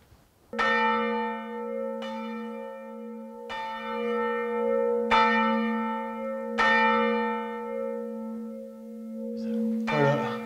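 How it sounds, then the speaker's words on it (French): Convent church bells ring out in a full peal for the first time in 45 years, in Hauts-de-France. Strong, resonant strikes repeat about every one and a half seconds, each leaving a long, sustained hum, close and clear with no talk. "on va être les premiers à entendre une volée de cloche avec un couvent en fait"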